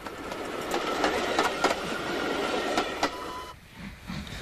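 USA tank steam locomotive number 30065 working a mixed rake of coaches on the Kent and East Sussex line at Northiam, a steady rumbling run with rhythmic clanks and hiss that drops away near the end.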